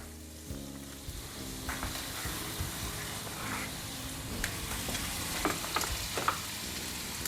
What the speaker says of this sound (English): Now in the same pan, I'm going to add 8 tablespoons of butter